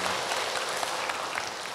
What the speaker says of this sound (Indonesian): Tepuk tangan untuk orang Karawaci